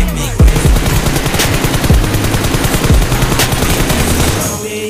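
Rapid automatic rifle fire in the battle royale shooter PUBG Mobile, loud and close, with dense bursts of shots running throughout over faint game ambience.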